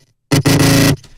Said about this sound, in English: So I have this bass sound.